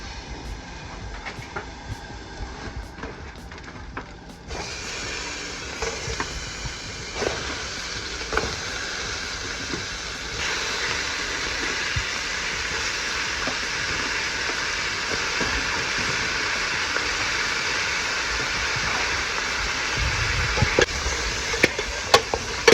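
Seafood sizzling in melted garlic butter in a hot pan, a steady broadband frying hiss that swells louder after the first few seconds and keeps going with small pops and crackles, close and alone with no talk.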